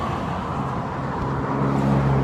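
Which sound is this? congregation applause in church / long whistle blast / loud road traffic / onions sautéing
loud road traffic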